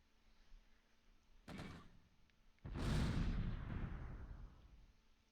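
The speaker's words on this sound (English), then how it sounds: "Those are decent mortar shots on this M10." Two mortar rounds hitting an M10 tank destroyer in the World War II game Close Combat: a sharp thump, then a louder, heavier blast that rumbles and slowly fades.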